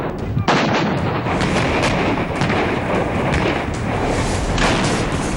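Artillery shells and rockets fire across the Line of Control during the Kargil war, a dense, continuous, loud barrage of overlapping booms and blasts with no pause.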